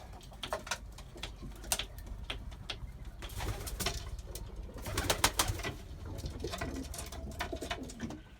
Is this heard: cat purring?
no